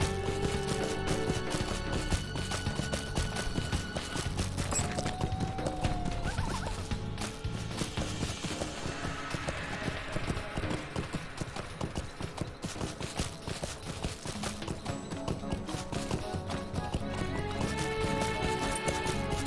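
Horse hooves clip-clopping in the video game LOTRO, a steady, brisk rhythm of hoofbeats throughout, with a game music bed underneath and a brief whinny partway through.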